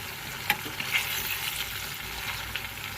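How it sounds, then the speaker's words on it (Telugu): Mushroom pieces in batter fry and are stirred in a pan, giving a steady close sizzle with a few faint scrapes and clicks from the stirring. "మొత్తం ఫ్రై అయ్యేలాగా తిప్పుకోండి."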